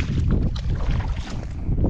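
Strong wind buffets the microphone at a high-altitude campsite around 4,900 metres in the cold, a loud continuous low roar and rumble with gusting swells throughout and no talking.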